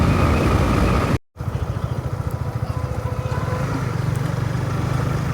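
Three motorcycles ridden together on a road toward Mawa by the Padma river in Bangladesh, a loud, steady engine drone with a fast rhythmic pulse and wind rush, briefly cut out near the start.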